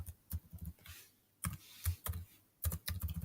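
Fingers type an email address on a computer keyboard at an office sign-in page, producing quick bursts of light key clicks with short pauses between them. The clicking is fairly quiet and close, with no talking.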